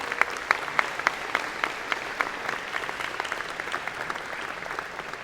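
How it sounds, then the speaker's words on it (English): Audience at a College of Engineering and Computer Science convocation applauds College Council members, steady mid-distance clapping from a large room with a few sharper individual claps standing out. "Give them a round of applause"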